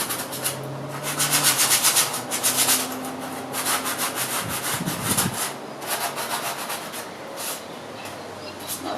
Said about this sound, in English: Just give this a bit of sand on the, just where it's got a little bit rusty, get rid of the excess.